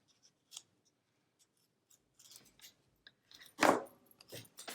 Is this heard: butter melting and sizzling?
no